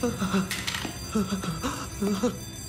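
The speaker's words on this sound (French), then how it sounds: "Et va m'arrêter cette foutue alarme." A telephone-style alarm bell rings in repeated bursts, loud and close, in an animated adventure scene, with voices talking over it.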